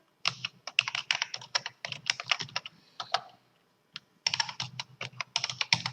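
Login credentials are typed on a computer keyboard in quick bursts of crisp close keystrokes, with a short pause midway before the typing resumes.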